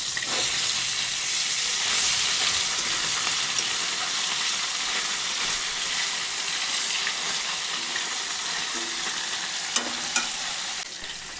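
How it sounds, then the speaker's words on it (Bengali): Fish sizzling steadily in hot oil in a pan for a curry, a continuous close crackling hiss with a few brief stirring clinks near the end and no talking. "তো মাছ ভাজা তো হয়ে গেছে,"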